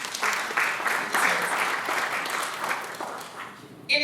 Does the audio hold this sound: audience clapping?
yes